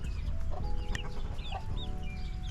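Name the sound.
chickens clucking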